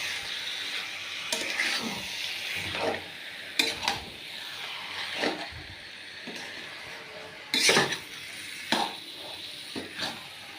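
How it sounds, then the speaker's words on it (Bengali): Meat being stirred with spices in a cooking pot, a series of scraping, sizzling strokes at irregular intervals with a soft frying hiss between them. "মাংসটাকে লাড়িয়ে মশলাটাকে মাখাবো।"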